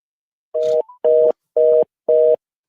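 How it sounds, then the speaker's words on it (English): Telephone tone heard while a call is being placed: four loud, even electronic beeps separated by short silences, clear and alone. "TK, it's me calling you."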